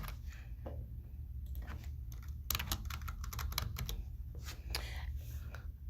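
Close, quiet computer keyboard typing while a form is filled in, with soft irregular key taps over a steady low background hum and no speech.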